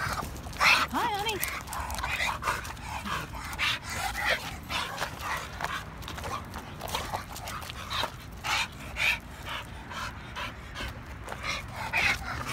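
A dog pants rapidly and whines close by, breathy rhythmic huffs mixed with high whimpers and small yips, while people talk softly over it.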